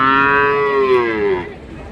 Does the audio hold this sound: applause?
no